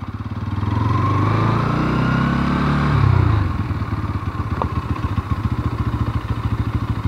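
Bajaj Pulsar NS 200 motorcycle engine running close by, a steady throbbing drone that swells briefly and then settles into a rapid, rhythmic pulsing, with no talking.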